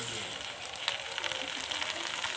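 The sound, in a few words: duck meat frying with onions in a pan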